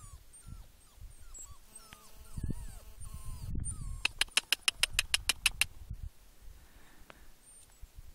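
A small dog whimpers in thin, high rising cries, faint and fairly close, among birdsong and low rustling, with a quick run of sharp regular clicks partway through.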